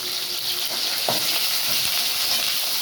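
Garlic and curry leaves frying in hot oil with mustard, cumin and fenugreek for a garlic kara kuzhambu, a loud continuous crackling sizzle with a few scraping stirs of a ladle.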